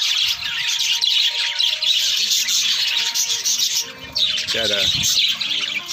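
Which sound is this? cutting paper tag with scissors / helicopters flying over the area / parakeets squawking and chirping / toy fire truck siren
parakeets squawking and chirping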